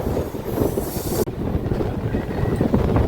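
A local train on the Howrah to Panskura line running between stations, a loud steady rumble and rattle of the carriage with rushing wind noise.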